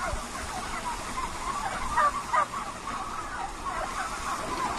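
Poultry raised in a farm barn with about three square feet per bird produce a dense, steady clucking and chatter from many birds, with a few brief louder calls standing out.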